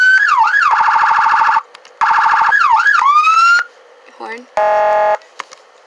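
Vehicle siren in the Roblox game Greenville, loud and close: repeating wailing and yelping tones cycle in short bursts, broken by brief pauses and a flat electronic buzzer blast.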